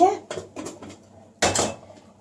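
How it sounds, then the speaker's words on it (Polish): Boiled potatoes drained from a pot in a home kitchen while cooking cabbage-and-potato mash, heard as a few clattering metal knocks and a louder splashing rush near the end, close and short. "Teraz muszę to, te kartofle odcedzić."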